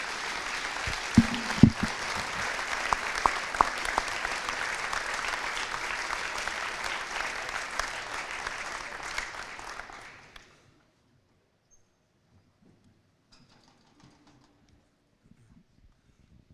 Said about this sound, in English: Let's give these guys another round of applause, the 2019 state champions.